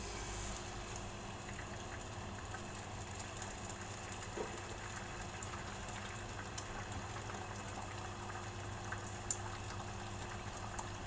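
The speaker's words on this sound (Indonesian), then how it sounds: "Nah, kita kasih goreng dulu telurnya ya." Two eggs fry in oil in a pan, a steady soft sizzle and crackle throughout, no talking.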